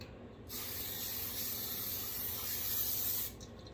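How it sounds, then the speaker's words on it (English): A single sustained spray hiss of palm oil spray onto a pan, lasting about three seconds, close and steady, then stopping abruptly. "get the palm spray and spray it in here"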